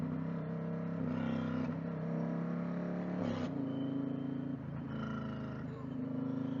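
Riding an Indian Challenger motorcycle fitted with a 112 big bore kit produces a loud, continuous, throaty engine drone heard up close, its pitch rising and dipping slightly as the throttle shifts.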